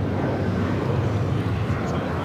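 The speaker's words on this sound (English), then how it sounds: "Japan Airlines Dreamliner heading over here to the south side" A Japan Airlines Dreamliner airliner arriving from Tokyo Narita rumbles low and steady near LAX, a continuous engine roar with strong bass throughout, with some background noise mixed in.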